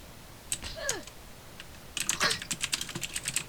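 Bursts of clattering computer keyboard typing, a short flurry of keystrokes, a pause, then a denser run of quick clicks close by, with faint background noise between.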